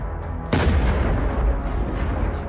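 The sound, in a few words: FPV drone strike explosion on tank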